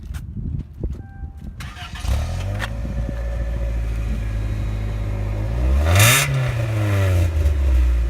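A Ford Escort's engine cranks and catches at about two seconds, then idles steadily before a sharp rev near six seconds climbs and settles back to idle, loud and close with only brief voices at the start.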